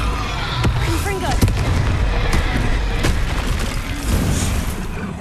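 Explosive fire spell bursts in the Hogwarts Legacy video game, heard as a dense run of booming blasts and crackling impacts over a constant roar of battle, with no pause between them.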